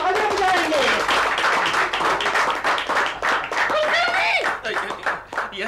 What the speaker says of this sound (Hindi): इनके स्वागत में सब लोग जोर से तालियां बजाएंगे।